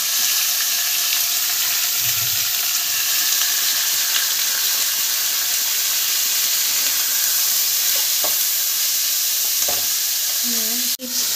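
Carrot and capsicum frying in oil for chicken momo filling, a loud, continuous sizzle and steamy hiss with occasional stirring clinks near the end.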